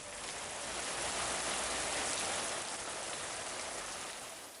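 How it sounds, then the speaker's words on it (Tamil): Widespread rain falls across Perambalur district in Tamil Nadu, a dense, steady hiss that is constant and fairly even, heard alone without any voices. "பல்வேறு இடங்களில் பரவலாக மழை பெய்தது"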